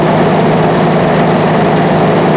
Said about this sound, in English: Cummins turbo diesel engine.